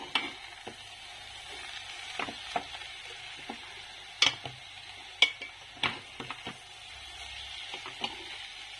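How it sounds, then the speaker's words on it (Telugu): Soya chips and chopped onion pieces stirred in a pan, a spatula scraping and clinking in irregular strokes over a faint low sizzle, close and fairly quiet with no talking. "వీటిని ఉల్లిపాయ ముక్కలు ఇవి బాగా మిక్స్ అయ్యేలా కలుపుకోవాలి."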